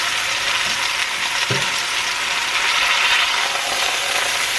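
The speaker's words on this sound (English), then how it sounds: "When you hear that nice sizzle, that is exactly what you want" A pot roast searing in a hot pan, giving a steady, close hiss of sizzling fat and juices with a couple of soft knocks from the pan, and no talking.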